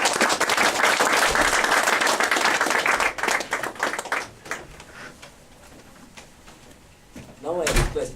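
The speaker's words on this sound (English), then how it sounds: "Please give them a big round of applause." An audience at a club installation ceremony applauds the office bearers, a loud burst of clapping that fades after about four seconds into a quieter room with knocks and a voice.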